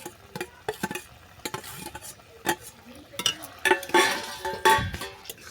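A spoon stirs moringa flowers, fried egg and boiled potato together in a curry pan, giving repeated scraping strokes and soft clinks over a faint sizzle, close and moderately loud, with no voices.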